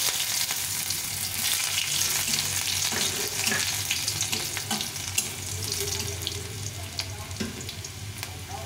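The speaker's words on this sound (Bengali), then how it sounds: "এখন আমি রসুনটা দিয়ে দেবো।" Crackling sizzle of chopped garlic frying in hot oil, continuous with occasional stirring clinks and a low background hum.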